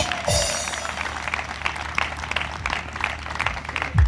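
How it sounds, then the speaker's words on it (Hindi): Audience at a church gathering applauding steadily, a dense wash of claps that holds throughout at moderate loudness, with a few louder bursts and no talk. "तालियां लगातार बजती हैं"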